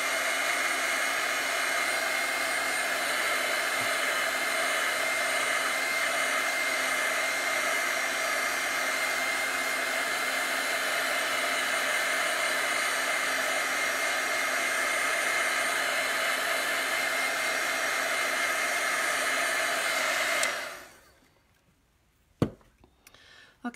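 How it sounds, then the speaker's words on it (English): A heat gun blows steadily and loudly for about twenty seconds, drying chalk paste on a Chalk Couture transfer, then shuts off, leaving near silence with a couple of faint knocks. "So I'm going to dry this with a heat gun so I don't get my fingers in it and mess it up."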